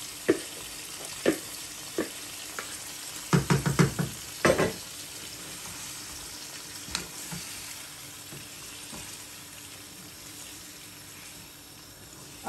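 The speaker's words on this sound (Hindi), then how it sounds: "अब इसको हम अच्छे से भूनेंगे मीडियम फ्लेम पे।" Masala kaleji, spiced liver cooked with yogurt, sizzles in a pan over the flame, with a steady frying hiss broken by scattered sharp pops and a brief burst of clatter, like stirring, near the start.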